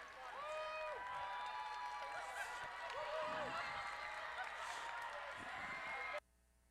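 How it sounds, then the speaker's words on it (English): Audience applause and cheering at a robotics competition regional, loud and continuous from a crowd for the finalist teams, with whistles and voices mixed in, before it cuts off abruptly near the end. "Let's hear a big round of applause for our finalist teams."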